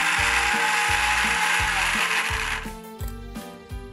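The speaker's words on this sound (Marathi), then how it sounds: "आता आपण मिक्सरमधनं त्याची फाईन पावडर" A kitchen mixer grinder pulverises about two dozen Oreo biscuits into fine powder, a loud whirring buzz with a rhythmic mechanical rattle that winds down and sputters to a stop near the end.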